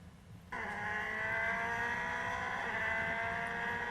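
FIA F3 race car at Spa-Francorchamps, its engine bursting in abruptly and then holding a loud, steady, high-pitched drone with little variation over the lap.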